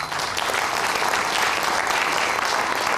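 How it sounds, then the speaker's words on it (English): Steady, dense applause from an audience at a real estate profession event, clapping continuously and fairly loudly for the whole stretch. "Give them a round of applause"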